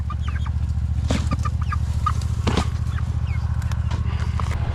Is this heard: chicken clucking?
yes